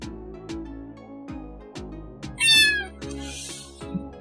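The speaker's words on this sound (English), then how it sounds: "I loaded it with kittens." Several kittens meowing in short, repeated cries at close range, with a brief louder, higher squeal in the middle.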